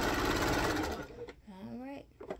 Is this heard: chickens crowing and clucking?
no